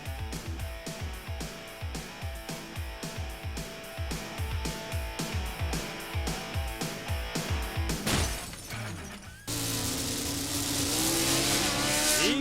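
Race cars roar off at the start of the A main event, a dense pulsing engine rumble with repeated revving surges, then a burst of crashing, shattering impact noise followed by a sustained louder roar of engines.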